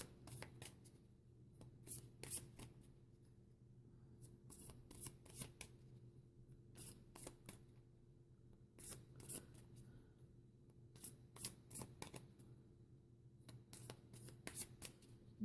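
Tarot cards are riffle-shuffled in quick bursts separated by short pauses, close and fairly quiet, in a still room.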